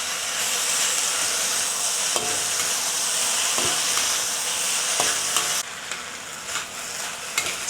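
Chinese yam, celery and wood ear mushrooms stir-fried in a hot wok, giving a steady loud sizzle and hiss with occasional scraping stirs of the spatula; the sizzle drops and softens toward the end.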